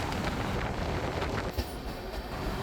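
An Indian Railways passenger train, a Surat–Bandra Terminus intercity express hauled by a WAP7 electric locomotive, rushes past close by with dense, steady rumbling and rattling of wheels and coaches throughout.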